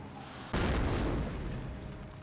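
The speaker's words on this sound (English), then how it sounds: "the Greyhound did receive a mortar shot there" A mortar shell explodes in the real-time strategy game Company of Heroes, a single loud booming blast that hits abruptly and rumbles on as it slowly fades.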